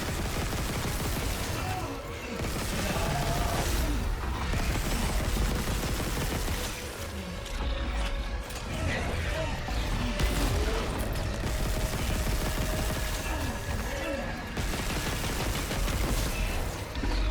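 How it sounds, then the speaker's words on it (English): Pulse rifle fire in Dead Space, rapid automatic shots rattling in sustained bursts over a thick, loud combat soundscape with creature noises mixed in. "Should probably use my pulse rifle for this."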